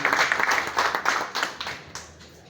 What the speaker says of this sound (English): I think it's important that we clap to this.